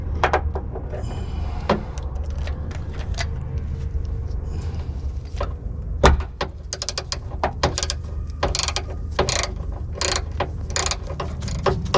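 A ratchet wrench with a Snap-on spark plug adapter clicks in repeated bursts of sharp pawl ticks while a spark plug is backed out of a Porsche 997 engine, close up over a low steady background hum.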